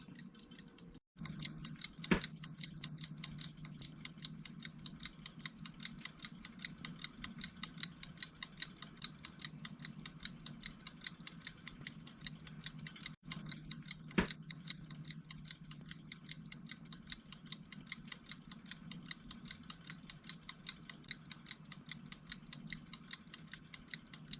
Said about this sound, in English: You hear it? It's ticking.